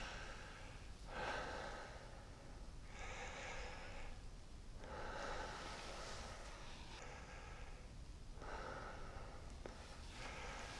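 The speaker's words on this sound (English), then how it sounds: "Just take a few deep breaths in and out." Slow deep breaths drawn in and out during a medical chest examination, several audible inhale and exhale cycles close to the microphone in a quiet room with no talking.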